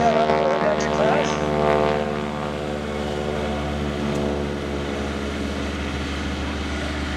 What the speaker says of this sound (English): The rumble you hear after it, that's the actual exhaust note